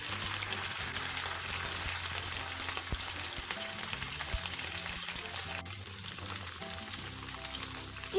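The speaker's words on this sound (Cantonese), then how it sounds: "煎一煎呢個豆腐，" Tofu pan-frying in oil with a splash of water and oyster sauce, a continuous crackling sizzle that stays close and steady throughout, with no talking.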